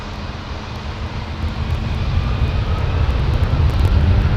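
A jet airliner's engines roar during takeoff at London Heathrow Airport, a broad steady rumble heard from a distance that slowly grows louder over a few seconds.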